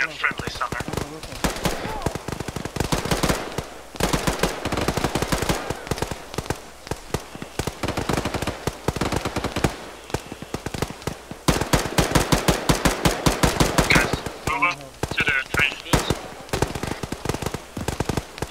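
Rapid, sustained bursts of machine gun fire in the ArmA 3 military simulation game during a motorized mountain combat operation. The shots are loud and dense, with players' voices talking over the gunfire.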